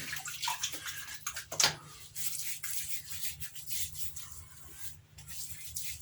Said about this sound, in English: First things first, let's get the face wet.